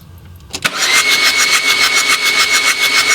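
A diesel engine cranks briefly with a click and then catches, settling into a loud, close, steady running rumble with a rhythmic pulsing.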